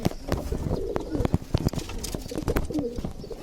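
Soft pigeon coos repeat through the clip amid rustling and wing flaps, with clattering knocks and a voice murmuring nearby.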